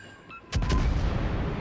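Warship main guns firing in World of Warships, a sudden heavy boom after a quieter moment, followed by rumbling blast decay that stays loud to the end.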